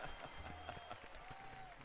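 Faint applause from a crowd at a BLAST Premier esports event runs throughout, a soft, continuous patter of many hands clapping at a distance.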